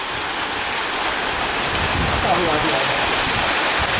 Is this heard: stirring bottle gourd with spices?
no